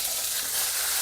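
Asafoetida and curry leaves hitting hot oil in an Indian home kitchen give a steady, close, bright sizzle and hiss lasting about a second, with no voices.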